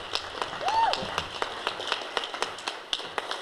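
Round of applause for political guests at an outdoor afternoon event, a thin, scattered patter of a few distinct claps, with a brief whistle-like voice sound early on.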